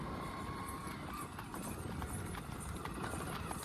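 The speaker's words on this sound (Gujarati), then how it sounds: "તાણીને રાખો ધ્રુવભાઈ, તાણીને રાખો ઘોડીને." A mare's hooves clip-clop in a steady rhythm during dance training, fairly close, with people talking in the background.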